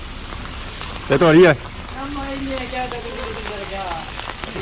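Rain falls in a village during a torrential downpour, a steady hiss of drops on surfaces underneath a brief burst of close speech and quieter talk.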